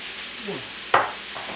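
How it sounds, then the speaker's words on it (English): Raw ground meat for sloppy joes dropped into a pan on a stovetop, giving a soft scrape and a brief sizzling burst before a low steady hiss. "now we're gonna get ready to put this meat in here so we start cooking it"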